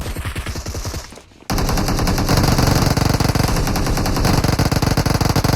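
Rapid machine gun fire rattles out in a dense, continuous burst after a brief lull, loud and close, with the sharp, processed sound of video game audio.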